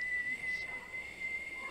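A person whistles one sustained high note, steady and fairly faint, with brief breaks in the tone over a quiet background.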